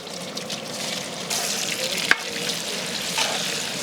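Sliced onions sizzle in hot oil and ghee with a constant hiss, broken by a sharp clink of a utensil and occasional stirring.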